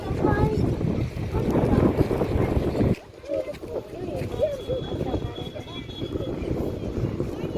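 Wind gusts outdoors beside a fish pond of clear rainwater on a visit to Akshar Mandir, buffeting the microphone as a loud, rough rumble for the first few seconds, then a lighter breeze, with people talking throughout.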